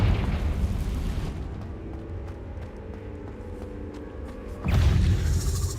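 A fiery Confringo blast spell in Hogwarts Legacy erupts with a deep rumbling boom that fades into a low roll, and then a second heavy burst hits near the end.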